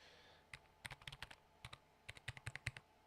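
Typing on a mechanical keyboard with MX switches: bursts of crisp, close key clicks in quick uneven runs, separated by short pauses, heard alone in a quiet room.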